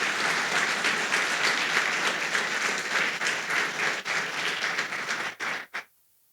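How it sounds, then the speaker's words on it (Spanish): A church congregation applauds during a sermon with sustained, busy clapping from many people that stops abruptly near the end. "denle un aplauso al Señor,"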